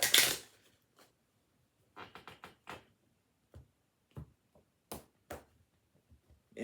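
Tarot cards shuffled by hand in short, separate bursts of riffling and snapping, close and fairly quiet, with clear pauses between each burst.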